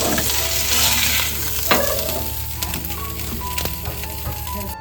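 Stuffed pomfret fish shallow-frying in a pan, a loud continuous sizzle and spatter with occasional clinks and scrapes of a utensil, close and without talk.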